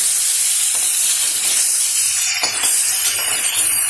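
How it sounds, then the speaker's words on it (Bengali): Marinated fish sizzles in hot mustard oil in a wok, a steady, loud broadband hiss and crackle of frying with no talk. "মাছটা মেখে নিয়েছি, এবারে আমি ভেজে নিচ্ছি।"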